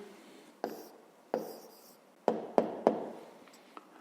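A pen writing down the answer to a fifth-grade maths exercise: a handful of short, sharp taps and strokes spaced irregularly, close and quiet, with no talking.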